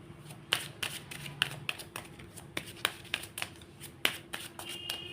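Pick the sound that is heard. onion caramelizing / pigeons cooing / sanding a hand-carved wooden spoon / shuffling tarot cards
shuffling tarot cards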